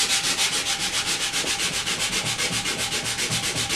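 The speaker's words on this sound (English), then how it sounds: "Then you can take your sandpaper, rough up your surface." Coarse 60-grit sandpaper rubbed back and forth over a wooden dovetail stool surface, a steady rhythmic scratching with even strokes, close and loud with no talking.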